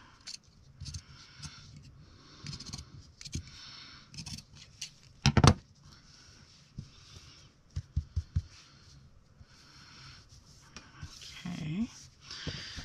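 Scissors snip through fabric in loose, free-motion trimming, giving a few short, close crisp cuts scattered under soft talk and light handling noise.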